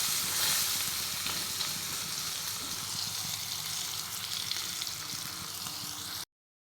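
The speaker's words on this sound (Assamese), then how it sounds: "এতিয়া আলুখিনি অকণমান ভাজি লৈছোঁ" Potatoes fry in a pan with a strong, continuous close sizzle that stays steady for around six seconds before stopping abruptly into silence.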